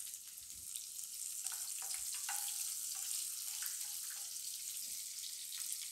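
Onions frying over low heat in a pan after cumin, for a restaurant-style capsicum gravy, giving a steady, moderate sizzle with a few light crackles and wet pops, no voices.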